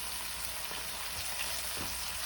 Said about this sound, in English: I'm going to let this sear on both sides